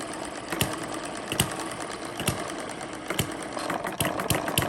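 A model hit and miss engine runs on a small homemade dyno, its steady rapid mechanical chatter punctuated by regular sharp firing knocks about once a second, close and continuous.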